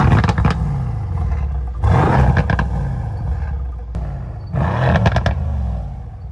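Mercedes C63 AMG S exhaust crackling and popping with backfires, heard outside the car as bursts of loud roaring revs with sharp pops, two main surges separated by a lower idle rumble.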